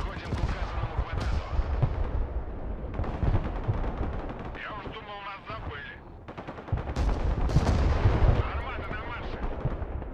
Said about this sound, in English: We're going to try and bomb these.